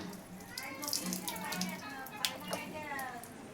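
Children play with water at a tap, a steady running and splashing wash with small irregular splashes, while an adult voice talks over it throughout.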